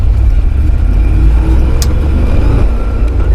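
An early first-generation Range Rover with its engine running, a steady low rumble holding evenly throughout from inside the vehicle, with no voices.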